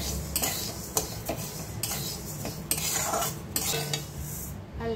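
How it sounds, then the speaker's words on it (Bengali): Dry mung dal being roasted and stirred in a hot kadai with no oil, lentils scraping and rattling against the metal in a steady series of close stirring strokes, no voices. "শুকনো খোলায় ভেজে নেব মুগ ডাল হালকা লাল করে"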